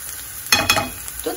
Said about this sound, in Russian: Обжариваем до золотистого цвета. К луку добавляем чеснок.